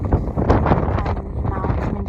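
Strong wind buffets the microphone on a Peak District hillside near Edale and Kinder Scout, a loud, continuous rumbling gust with a voice partly heard beneath it.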